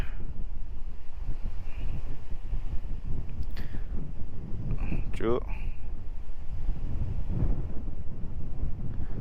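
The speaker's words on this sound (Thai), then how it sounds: "โอ้ลม" Strong, steady wind at a dam in Buriram Province, Thailand, buffets the microphone with a constant roar, while someone speaks briefly partway through.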